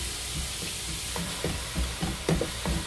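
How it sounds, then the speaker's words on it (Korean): King oyster and shiitake mushrooms stir-frying in a pan over medium heat, a steady sizzle broken by scattered taps and scrapes of stirring, close with no talk. "새송이 버섯과 표고버섯 넣고 먼저 중력불에서 볶겠습니다"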